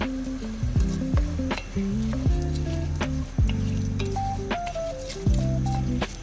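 Risotto rice cooking in white wine gives a steady close sizzle and bubbling frying noise, with occasional stirring scrapes and musical tones playing over it throughout.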